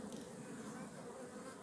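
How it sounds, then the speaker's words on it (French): A honeybee swarm buzzes inside a hive, producing a dense, continuous drone that holds steady and close throughout. "Regardez le calme complet qu'il y a dans l'essaim."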